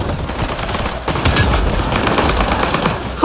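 An automated security turret fires on the player in Mass Effect: Andromeda, a dense, continuous stream of loud shots that swells briefly, then sharp bursts near the end.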